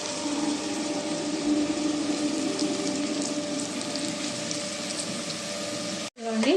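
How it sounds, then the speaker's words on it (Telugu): Cucumber pieces cook in a pan with fried onions and dried shrimp, giving a steady close sizzle and hiss that cuts off abruptly near the end. "ఎండ్రాయిలను ఉల్లిపాయలు బాగా ఫ్రై అయినాయి కదండి దీంట్లో దోసకాయ ముక్కలు వేసేసుకున్నామండి"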